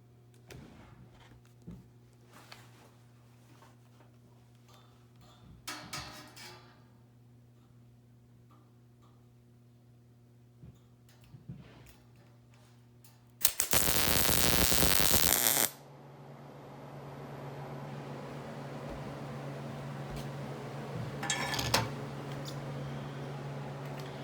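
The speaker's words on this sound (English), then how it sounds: "I need to weld it on right there" A stick welder stinger tack welds a steel sculpture, sounding as one loud, steady burst of crackling arc noise that lasts a couple of seconds amid otherwise quiet workshop ticks and faint clicks, with no talking.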